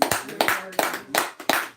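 A small group claps in a steady, evenly spaced rhythm, five sharp close-up bursts within a couple of seconds, with no talking over it.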